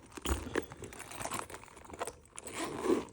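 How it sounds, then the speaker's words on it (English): Zipper on a Louis Vuitton bag opened and closed, a quiet scratchy run of rasps and crinkles in short bursts, close up and faint with no talk. "For some reason, the zipper on the fake one glides a little bit smoother."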